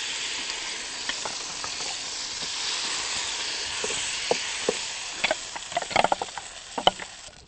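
Oil sizzles and hisses steadily as finely ground batter fries, with scattered sharp pops and crackles growing more frequent toward the end.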